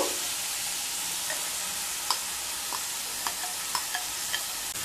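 Marinated prawns stirred into partly boiled bottle gourd leaves in a hot pan give a steady close sizzle, broken by scattered light spoon clicks and scrapes, with no talking.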